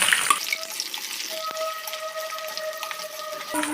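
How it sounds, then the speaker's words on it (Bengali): Chopped onions frying in hot oil with bay leaves, dried chilli and whole garam masala, a steady close crackling sizzle with faint scrapes of stirring, without any speech. "পেঁয়াজটাকে এখানে আমি একটু লাল লাল ভেজে নেব"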